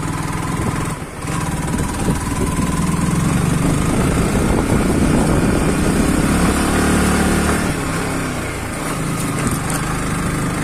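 A motorcycle is ridden slowly across sandy ground, its engine running loud and steady for the whole stretch with small rises and dips in revs, close to the listener.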